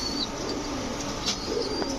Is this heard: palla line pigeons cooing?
yes